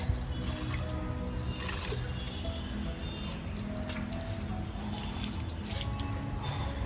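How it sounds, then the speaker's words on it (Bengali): Water poured onto the dry soil of a potted hibiscus plant, a continuous close splashing and trickling with drips spattering over the pour throughout. "জল দিয়ে দিই"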